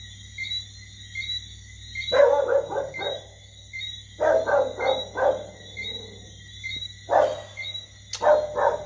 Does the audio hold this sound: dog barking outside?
yes